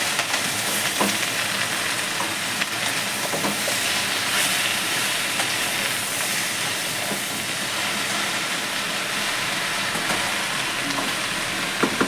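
Bottle gourd greens being stirred with salt and turmeric in a hot pan, a loud, steady hissing sizzle running throughout with occasional soft scrapes of the spatula and no voices.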